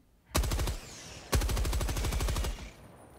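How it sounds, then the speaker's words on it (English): A machine gun in the video game Helldivers 2 fires two rapid bursts, a short one then a longer one lasting about a second, loud and close, with quiet moments between. "Oh, look at that, a machine gun here."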